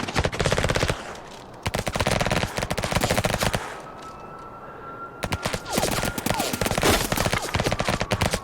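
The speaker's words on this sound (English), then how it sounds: "really listen to that gunfire specifically" Rapid machine-gun fire and fusillades from a film soundtrack crackle in dense bursts, pause briefly with a faint whine, then resume in sustained rattling volleys, loud and close.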